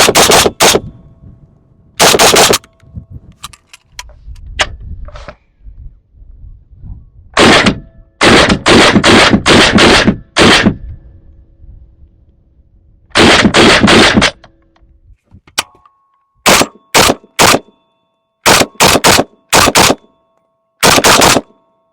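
An Arsenal Saiga SGL21 rifle firing 7.62x39 from Russian magazines booms loudly in bursts: a few single shots, then rapid strings of closely spaced reports separated by short pauses.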